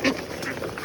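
A large domestic duck gives one short, close quack at the very start, followed by quiet room noise.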